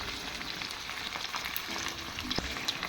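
Cumin and mustard seeds frying in oil for a tomato chutney, a soft, steady crackle and hiss with a few faint pops and one light utensil knock, quiet and close.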